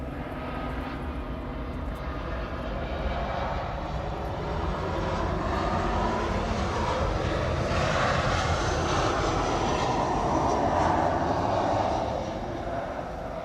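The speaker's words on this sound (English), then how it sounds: "Can you hear the plane sound?" An airplane engine at an airport drones steadily at a moderate distance, a smooth continuous roar that swells slightly toward the middle and then eases.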